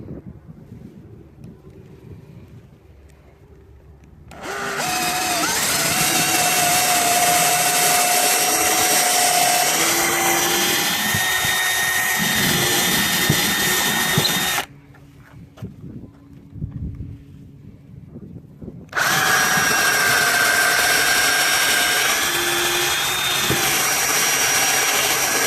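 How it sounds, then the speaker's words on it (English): A power drill bores holes into a 2x4 board in two long, loud whirring runs, the first about ten seconds and the second about seven, separated by a quieter pause. "we will proceed to drill some holes"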